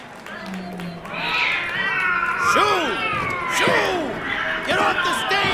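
Cats meow and yowl on a stage in a radio play, with several drawn-out, rising and falling cries over a lively crowd-like bustle, loud and close, with speech mixed in.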